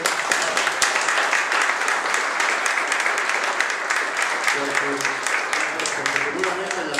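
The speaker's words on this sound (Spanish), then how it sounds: "le pido un aplauso para el doctor." Applause from an audience at a lecture on corruption, a continuous wash of many hands clapping with some voices and murmuring underneath, steady and moderately loud.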